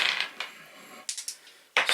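Dice rolled for a tabletop war campaign event, a few quick rattling clicks and a final clatter, close and fairly loud with no talk.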